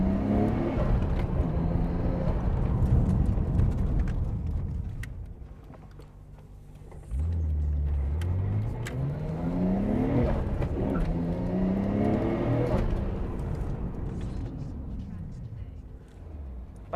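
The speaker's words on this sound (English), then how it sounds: "I try to speed it up a little bit just to test the limits of the car." A Nissan GT-R R34 V-Spec revs and accelerates, its engine note rising and falling loudly, with a second strong surge partway through and speech over the car noise.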